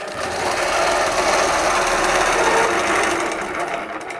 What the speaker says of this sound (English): your hopping foot will stitch 1/4 inch away